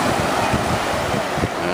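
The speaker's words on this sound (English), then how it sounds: "But we got waves." Ocean surf washes steadily on a chilly Florida beach, a continuous broadband roar with some wind buffeting the microphone and no clear separate wave breaks.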